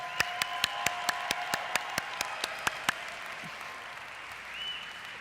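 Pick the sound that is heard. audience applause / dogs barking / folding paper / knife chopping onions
audience applause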